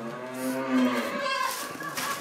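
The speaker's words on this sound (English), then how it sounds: "got the grain down here without getting stampeded by the cows" Cows on a farm moo in the morning, one long low bellow up close followed by another rising call, loud and alone.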